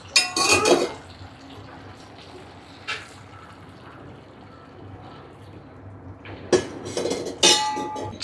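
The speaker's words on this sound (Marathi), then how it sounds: "आता याच्यामध्ये मी पाणी टाकून घेते." Water is poured into a pot of village-style mutton, heard as short splashing bursts at the start and near the end among clinks of metal utensils against the pot, with a quiet gap between.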